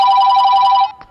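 A mobile phone rings with a bright, steady electronic tone, loud and close, then cuts off abruptly near the end.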